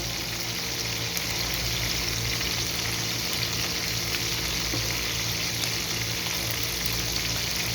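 Chicken pieces frying in hot oil in a pan, giving a steady, dense sizzle that holds at an even level throughout with no talking.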